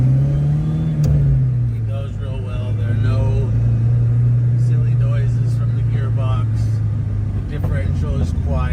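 A 1962 Alfa Romeo Giulietta Sprint Speciale on a road test, its engine and exhaust humming steadily at cruising speed with a brief pitch rise early on, close and continuous under someone talking.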